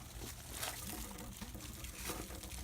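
Water spurting about two feet high from open lines in an irrigation or sprinkler system, a steady close hiss and spray with trickling and patter, no voices.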